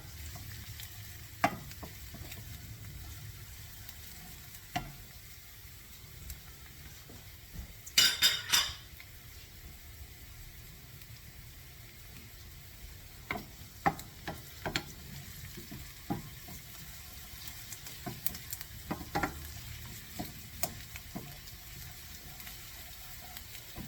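Chopped garlic and shallot cooking in oil in a pan, a soft continuous sizzle broken by scattered utensil taps and stirring clinks, with one brief louder rattle.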